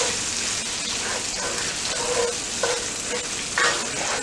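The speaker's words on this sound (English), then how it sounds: "So stir it around until the tomato paste is kind of loose" Tomato paste sizzles steadily in a hot pan while being stirred and sautéed for jollof rice, a close, continuous frying hiss with faint scraping strokes and no speech.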